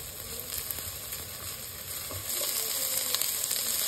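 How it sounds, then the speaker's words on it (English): Chopped ginger and garlic sauté in olive oil over medium-low heat, a steady, close sizzle and crackle that holds even throughout, slightly brightening toward the end, with no voices. "Sauté 3 teaspoons of chopped ginger and 3 teaspoons of chopped garlic in 1/4 cup of olive oil on medium-low heat."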